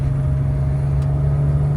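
A BMW 330ci engine drones steadily from inside the moving car, a strong low hum with a constant tone and no talk over it.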